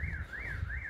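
A car alarm wails without a break, its siren pitch sweeping up and down in a steady repeating cycle. The sound is loud and continuous over a low background rumble, with no talking.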